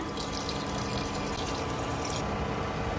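Water pours steadily into a pot of simmering tamarind broth for one-pot rasam rice, a constant close rushing fill with no talk.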